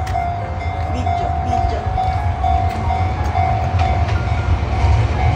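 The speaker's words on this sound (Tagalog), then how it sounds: "Ayun yung train. Nabagal yung train." A train passes close by near Mount Fuji in Japan, a steady rumbling roar with faint rail clatter and a sustained tonal whine throughout.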